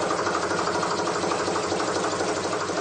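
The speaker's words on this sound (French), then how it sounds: "Le vieux moteur tourne comme une horloge suisse." Old engine of a canal boat running on the Canal du Midi, a steady rhythmic chugging idle with a dense mechanical clatter, close and continuous with no talk.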